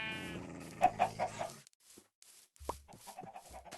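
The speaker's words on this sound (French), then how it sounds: "Je fais spawn beaucoup de moutons." Sheep in the video game Minecraft bleat in a quick run of short, nasal calls, a few overlapping, then a pause followed by softer scattered game sounds.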